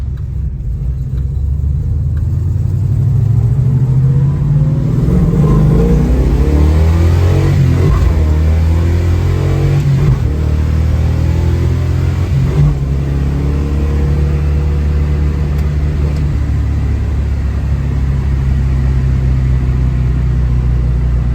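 A 1971 Plymouth Duster muscle car's engine rumbles loud and close, revving up hard with repeated rises and drops as it accelerates and shifts down, steady throughout.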